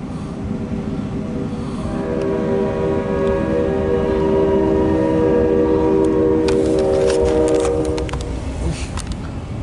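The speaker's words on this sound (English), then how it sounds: "Nice Amtrak!" Amtrak passenger train rolling past with a loud steady rumble and a sustained multi-tone horn blast that fades out, wheel clatter continuing after.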